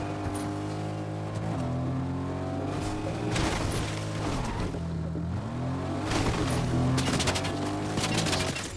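Car driving in Fortnite, an engine drone with pitch rising and dipping as it accelerates and shifts, overlaid by bursts of rapid gunfire, loud and continuous.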